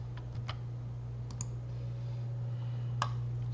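A computer mouse clicks a few times, sharp and close, in quick isolated taps over a steady low hum while working in SolidWorks CAD software.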